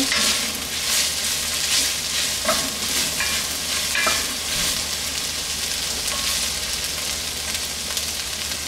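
Onions sizzle and fry steadily in a hot pan for pancit canton, a continuous close crackling hiss with occasional scraping stirs, loud and even throughout with no talking.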